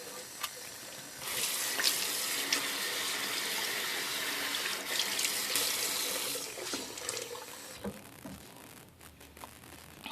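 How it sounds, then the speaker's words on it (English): Tap water runs steadily into a sink for rinsing soap off skin after a vegan facial soap demo, a broad continuous hiss with a few splashy changes near the end. "And then we're going to go ahead and rinse."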